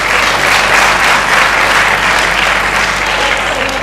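Dense audience applause at a comedy stage show, loud and continuous with no gaps, from a large crowd close at hand.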